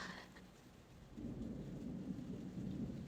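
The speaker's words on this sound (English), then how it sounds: "If you can hear the background noise, it's actually the thunder. It started to rain now" A low, distant rumble of thunder rolling in beneath steady rainfall, faint and continuous.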